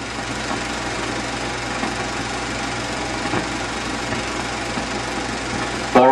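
An Allis Chalmers WD-45 tractor from the 1950s runs steadily as it unhitches and drives away, its engine a continuous, fairly loud mechanical drone with a faint knocking rhythm and no talk over it.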